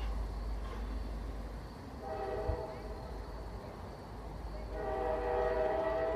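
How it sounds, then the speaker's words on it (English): A train passes about a block away on 3rd Street, a faint distant rumble with tonal horn blasts swelling twice, heard from indoors. "In my study, I hear trains pass about a block away on 3rd Street."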